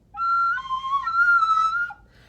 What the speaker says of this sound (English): I call that the spooky whistle noise.